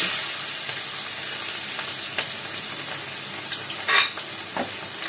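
Onions and chillies fry in a pan with a steady, loud sizzle, while occasional light scrapes and clinks of stirring come through up close.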